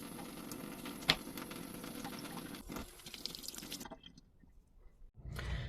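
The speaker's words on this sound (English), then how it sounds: "I just give it a pinch to really squeeze out any excess water" Wet squishing and dripping as excess water is pinched out of a makeup brush, soft and close, with faint drips, a brief louder squeeze near the end, and no talking.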